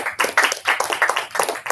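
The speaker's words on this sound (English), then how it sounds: "You can clap." An audience at a book launch claps steadily and densely for a couple of seconds, close and loud, with no voices.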